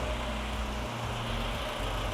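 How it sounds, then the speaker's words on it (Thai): A 2009 Honda Jazz GE 1.5 SV engine idles steadily with the air conditioning off, a constant low throbbing rumble close by with no other sounds. "เดี๋ยวให้ฟังเสียงเดินเบาของเครื่องยนต์ก่อน"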